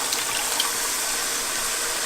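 Water poured into a pot of onion sauce with vegetables, for chicken yassa, a steady hissing pour of liquid lasting about two seconds with no talking.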